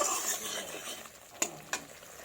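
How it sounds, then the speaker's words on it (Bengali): Cucumber and drumstick flowers being sautéed in a pan: a steady frying hiss with scraping stirs and two sharp clinks of a spatula against the pan near the end. "এই দেখুন ভালোভাবে কষিয়ে নিচ্ছি"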